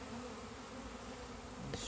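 Honeybees buzzing steadily during an outdoor hive inspection, a close, continuous droning hum with a brief knock near the end.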